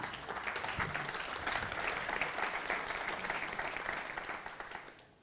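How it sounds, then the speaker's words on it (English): An audience at a silicon technology forum in Valencia claps for the panel speakers, a sustained, even round of applause from a moderately sized crowd that holds steady and then tapers off quickly at the end. "A round of applause for them."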